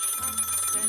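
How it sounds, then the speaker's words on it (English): A telephone bell rings in a short steady electric trill, alone and moderately loud, in a WWII German headquarters setting during the Normandy airborne landings. "The telephone kept ringing."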